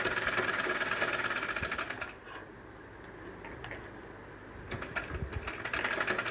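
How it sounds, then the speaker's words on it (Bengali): A sewing machine stitching along fabric edges, a fast steady mechanical whirr with rapid needle ticking that stops for a few seconds and then starts again, close and clear. "আমি ধারগুলো এখন সেলাই করে নিচ্ছি"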